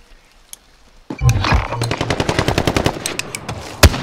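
Rapid automatic gunfire in a tactical shooter video game, a sustained burst of evenly spaced loud shots after a brief quiet lead-in, ending with one sharp louder blast.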